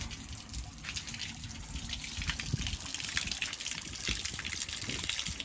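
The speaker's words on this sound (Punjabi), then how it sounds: "ਪਾਣੀ ਚੱਲਦਾ ਤਾਂ ਇੱਥੋਂ ਦੀ ਡਿੱਗਦਾ ਝਰਨੇ ਵਾਂਗੂ" Water gushing from a farm motor pump outlet and falling like a waterfall, a loud, continuous, close roar of splashing flow holding steady throughout, with no talking.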